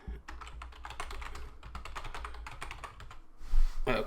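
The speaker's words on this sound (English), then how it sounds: "So let me type in." Fingers type rapidly on a computer keyboard in quick, close key clicks with a brief pause near the end.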